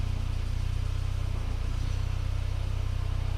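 A 1987 VW Cabriolet with a manual gearbox runs in first gear with a steady, even engine drone. The low rhythmic pulse continues unchanged the whole time, close and fairly loud, with no talking.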